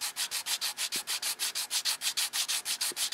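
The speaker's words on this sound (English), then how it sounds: "take a little sanding stick and just clean up some of the paint" A small sanding stick scrubs paint off a Bachmann model boxcar body in quick, steady back-and-forth strokes, about six per second, close and dry with a raspy hiss, no voices.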